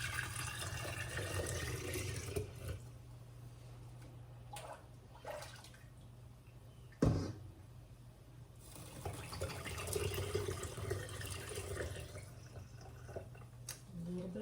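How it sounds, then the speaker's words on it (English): Tomato juice pours and trickles steadily into jars, with soft dripping and small splashes, close by and fairly quiet, pausing briefly midway before continuing. "Pour it in my jars."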